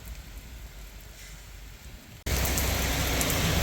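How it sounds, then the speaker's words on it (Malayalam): Heavy rain pours down in Jeddah with a steady, dense hiss that suddenly grows much louder and closer about two seconds in, then keeps roaring without a break. "എന്തൊരു മഴയെന്നോ, കുറച്ച് നേരമായി ഇത് തുടങ്ങിയിട്ട്."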